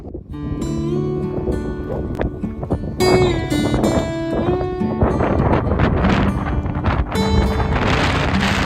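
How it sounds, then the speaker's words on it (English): Strong gusty wind on the South West Coast Path toward Porthcurno, buffeting the microphone with loud, continuous rumble and roar that surges in gusts throughout. "that wind seems to be getting stronger all the time"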